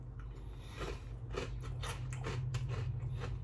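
Crunchy chewing on a bowl of sweet cereal, close up, with steady rhythmic bites and crackly crunches over a low background hum, no talking.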